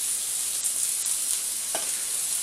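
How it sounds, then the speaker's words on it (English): Oil heating and sizzling in a frying pan on a stovetop, a steady hissy crackle with a brief pop partway through, close and continuous with no voices. "I'm going to heat up the oil, and then it'll be nice and fluid"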